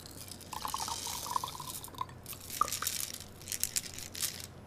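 Water is poured out of a lab container during a cellular respiration experiment with glass beads, giving soft trickling and dripping splashes with a few bright clinks, close and fairly quiet with no talk.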